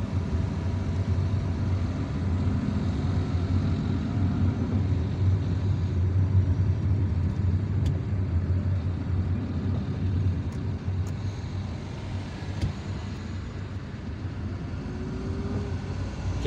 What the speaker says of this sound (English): And the more we approach the city center, the more traffic we find.